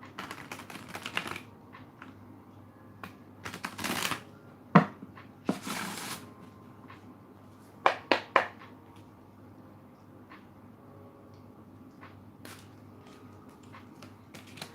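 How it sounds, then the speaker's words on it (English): A deck of tarot-style cards is shuffled in a quiet room in several short, crisp riffling bursts separated by pauses, with a few lighter taps and flicks in between. "I thought I shuffled my deck upside down"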